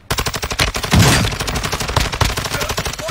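Rapid automatic gunfire from a video game, loud and close, in dense continuous bursts with no talk over it.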